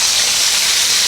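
Rabbit pieces browning in a pan over high heat, producing a loud, continuous, close hiss of fat sizzling without pause.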